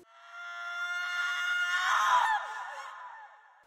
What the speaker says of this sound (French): C'est un cri de femme